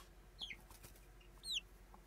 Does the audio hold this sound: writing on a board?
no